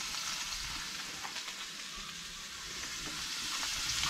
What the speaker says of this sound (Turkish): Evet, patlıcanlarım kızardı ya.